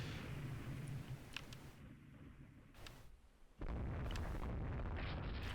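Naval gunfire against a Berlin class cruiser in the naval strategy game Rule the Waves 2: heavy, rumbling booms and bursts that fill the scene, with a sharp loud blast near the end and no talking.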